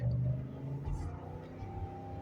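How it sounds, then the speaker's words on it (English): A 2017 Ford F-250 Super Duty pickup pulls out into traffic, its engine rumbling steadily close by as it accelerates, with a low mid-range drone throughout. "pulling out into traffic."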